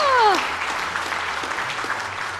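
Audience applause at an awards gala in the UAE, a steady broad wash of clapping from a crowd sustained throughout, with a brief whistle-like tone near the start.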